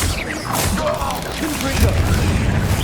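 Confringo blasting spells from Hogwarts Legacy going off in a dense run of booming explosions, close and loud, with spoken spell incantations heard over the blasts.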